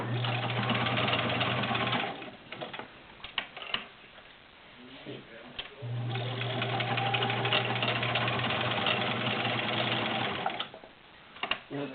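A Kenmore Model 1400 sewing machine with a size 16 needle runs through denim seams, a steady mechanical whir in two long bursts separated by a pause of clicks and handling.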